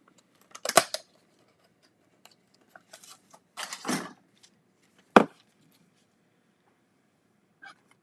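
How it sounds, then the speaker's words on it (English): Spellbinder scissors snip through craft foil in a few short, crisp cuts, faint and close, separated by quiet pauses. "I love to use my Spellbinder scissors to cut the foil."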